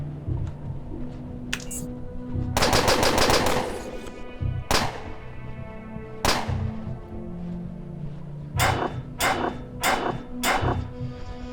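Shotgun blasts in the turn-based game Underrail ring out over a steady game backdrop: a rapid rattling burst, then single sharp booms spaced a couple of seconds apart, ending in a quick cluster of four shots, loud and close.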